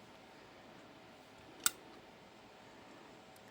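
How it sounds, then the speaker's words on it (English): A single sharp snip of wire cutters trimming excess jewelry wire while making earrings, one crisp click near the middle of an otherwise quiet moment, with a faint tick right at the end. "And then I can snip off my excess wire."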